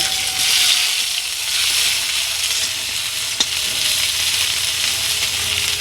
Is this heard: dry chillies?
yes